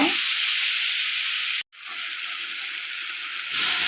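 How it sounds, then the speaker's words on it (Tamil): Tomatoes with a pinch of turmeric sauté in a pan for karuvattu thokku, giving a loud, steady sizzle that cuts out for a split second and then resumes, growing slightly brighter at the end. "நல்லா தக்காளி நல்லா வதங்கி வரட்டுங்க"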